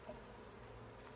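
Bees being gently swept into a box with a bee brush fill the air with a steady, faint, close buzzing hum that has no clear breaks.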